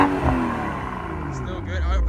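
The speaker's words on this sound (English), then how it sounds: "So now we're gonna look at my boy Nate's exhaust." A BMW B58 inline-six engine rumbles through its exhaust, a deep idle that swells into a rising rev near the end, heard under people talking nearby.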